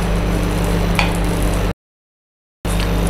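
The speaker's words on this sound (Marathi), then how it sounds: "कांदा सुद्धा आपल्याला छान असा सोनेरी रंगावर परतून घ्यायचा आहे" Onion sautéing in a pan until golden for a veg Malvani rassa, a steady loud sizzle and frying hiss with faint stirring ticks, cut by a short stretch of complete silence before the sizzling returns.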